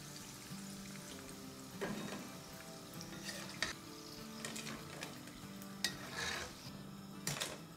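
Bread pakoras sizzle steadily in hot oil while being stirred, with a constant frying hiss broken by occasional scrapes and light clinks of a utensil against the pan, close and fairly quiet.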